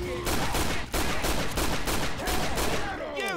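Heavy sustained video game gunfire aimed at a tank, a dense fusillade of repeated shots close and loud, with players talking over the barrage.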